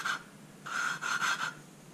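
Lapping cylinder head valves with fine grinding paste: three close, soft gritty rubbing strokes, one brief and two longer, separated by short pauses, with no talking.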